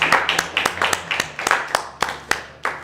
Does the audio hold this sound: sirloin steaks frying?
no